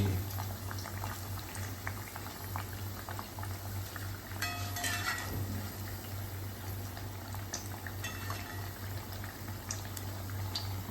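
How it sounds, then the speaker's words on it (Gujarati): Corn flour vadas bubble in a pot on the stove, a constant close boiling burble with a low hum underneath and scattered pops and crackles throughout. "જો ઉકળી ગયા ને"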